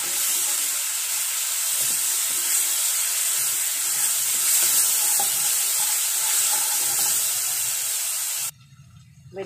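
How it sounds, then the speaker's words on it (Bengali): Water poured into frying spice paste for a prawn malai curry, producing a loud, steady hiss and sizzle that runs for several seconds before cutting off abruptly. "সামান্য জল অ্যাড করে দিচ্ছি।"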